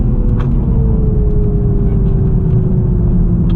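A new Toyota GR Supra running on a race circuit produces a loud, close engine drone with a slowly falling tone as it comes off the throttle, carried over a constant rumble of road and wind noise.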